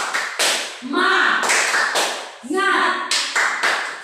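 Classroom group performs a rhythmic chanted clapping routine, sharp bursts of claps in a patterned beat alternating with voices chanting together, close and lively.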